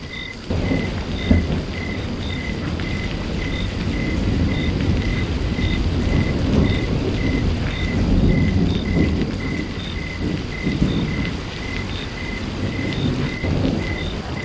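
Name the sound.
heavy rain with thunder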